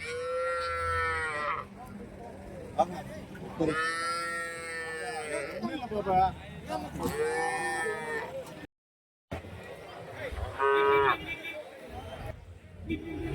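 Cattle at a livestock market in Krishnagiri district lowing repeatedly in several loud, drawn-out moos close by, with other animals and someone talking in the background.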